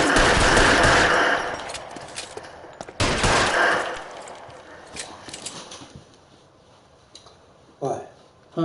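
Rapid automatic gunfire in a video game, shooting through a wooden crate, heard as a loud, dense burst of shots up front that thins into scattered mechanical clicks and softer shots, with voices in places.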